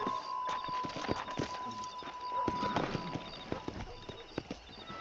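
A horse gallops in Red Dead Redemption 2, its hooves beating a quick, steady clip-clop rhythm close by, with a faint whinny and a thin background tone.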